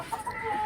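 Backyard chickens, a rooster among hens, let out a brief burst of clucking close by.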